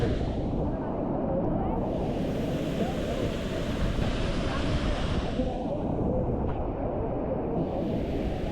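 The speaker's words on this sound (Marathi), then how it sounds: "काय धबधबा." A monsoon waterfall behind Kondeshwar temple near Kamshet, Pune, roars as a loud, steady broadband rush of falling water, close and continuous throughout with no pauses.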